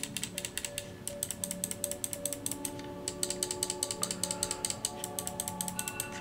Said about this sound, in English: Nice clicking action there,